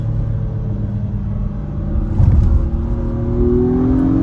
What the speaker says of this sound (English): that boost kicks in and you are moving